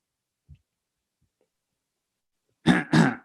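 A short cough comes in two close, fairly loud bursts after a faint earlier throat sound and near silence.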